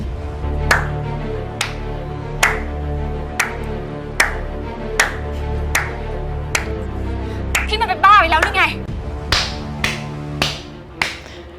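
About a dozen slow, evenly spaced hand claps ring out over a steady background bed, with a voice breaking in briefly near the end.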